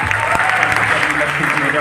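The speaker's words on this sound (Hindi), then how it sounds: "एक बार खड़े होके मेरे गुरुदेव के लिए जोरदार तालियां होनी चाहिए।" Dense, steady audience clapping rings out in a hall, a short loud burst of applause for a teacher with no break in the rhythm.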